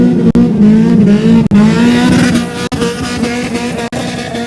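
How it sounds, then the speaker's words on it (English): Rally sprint car at a forest stage start line, its engine note droning steadily and loud with a few sharp gear-change dips, no talk over it. "And welcome to the start line now, car number 48, which is Shane McKenzie."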